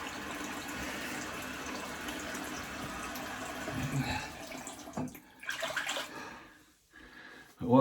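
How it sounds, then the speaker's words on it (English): Running water from a tap while rinsing a razor during a head shave with soap, a faint, steady hiss and splash close by that breaks up near the end, with no voices over it. "So we'll have a rinse now."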